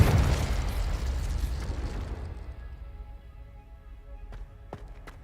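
Confringo blasting curse going off in Hogwarts Legacy: a loud explosive burst at the start that decays into a long fading rumble, followed by a few faint sharp clicks near the end.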